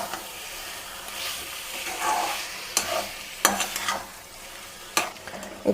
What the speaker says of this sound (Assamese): এয়া এনেকৈ অলপ টাইম আমি ফ্ৰাই কৰি থাকিম এয়া এনেকৈ লাহে লাহেকৈ লৰাই দিছোঁ